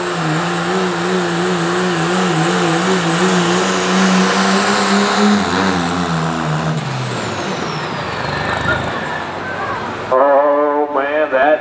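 Pulling truck at a Southeastern Ohio Pulling Series truck and tractor pull in Caldwell, Ohio, its engine roaring loud and close with a wavering pitch that sags midway into a rough rumble, then revs sharply again at the end.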